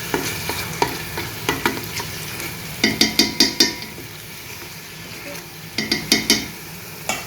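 Mutton frying with ginger garlic paste in a pan over a medium flame, with a steady sizzle and bursts of rapid rhythmic spatula scrapes and clinks against the metal, heard in two clusters.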